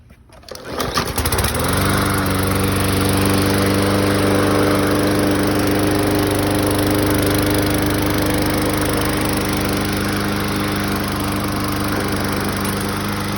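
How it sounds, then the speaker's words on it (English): A Yard Machines self-propelled lawn mower's small engine catches after a brief pull and settles into a loud, steady close-up drone that runs unbroken to the end. "here's the start on this yard machine, self-propelled"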